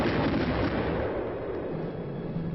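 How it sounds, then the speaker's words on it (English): Artillery fire during a combat training exercise, an assault on a hill position with tank support: a dense, sustained roar of booming blasts and rumble, loud and continuous throughout, with no voices. "Fighting with artillery and tank support, actually attacking a hill position."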